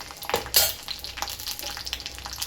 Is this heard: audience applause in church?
no